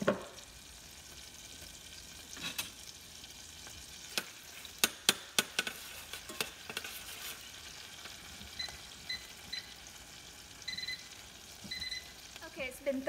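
Ginger and garlic sizzle quietly in melted butter, a steady soft hiss broken by a run of sharp clicks and taps from a utensil against the pan, with faint high tones and a little background voice.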